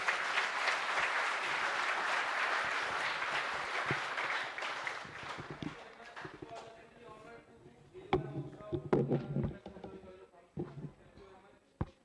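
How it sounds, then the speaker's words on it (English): An audience at a GPAT 2026 guidance session held by Gokhale Education Society in Nashik gives a dense, steady round of applause that thins over several seconds into scattered, separate claps. "Let us conclude with a round of applause for today's speaker."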